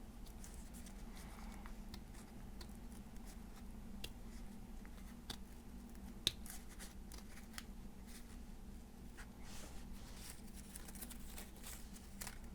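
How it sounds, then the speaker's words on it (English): Scissors snip through folded paper while a snowflake is cut out, giving faint, irregular clicks and crisp cuts that come steadily and close up over a low, constant background hum. "then it'll make it easier to finesse your way around with your scissors."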